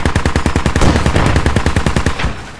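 Automatic gunfire in the military shooter Squad: a loud, close burst of rapid, evenly spaced shots, around twenty in quick rhythm, that cuts off abruptly near the end.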